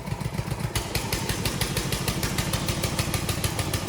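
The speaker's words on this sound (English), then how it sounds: "First, pull start the engine." A petrol engine on a wheeled radio-controlled grass cutter catches after a pull start and settles into a fast, steady chugging rattle, loud and close, running on its own with no voices.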